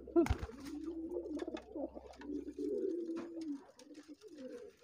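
Domestic racing pigeon cooing in courtship, a string of low rolling coos and throaty murmurs, close and fairly quiet, with a brief sharp knock near the start and light background noise.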